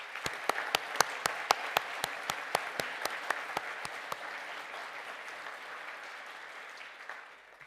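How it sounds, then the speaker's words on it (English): A graduation crowd gives a Bachelor of Science in Physics and Instrumentation class a round of applause, with a steady patter of claps and a few sharp, close individual claps at first that fade out over the last few seconds. "to stand for a well-earned round of applause"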